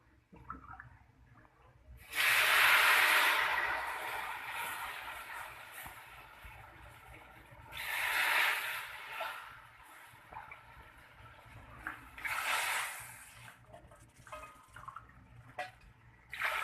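Four cups of water go into a hot pan of browned semolina halwa with almonds, raisins and coconut, setting off a loud hissing sizzle that returns in two weaker surges. Nearby and no talking.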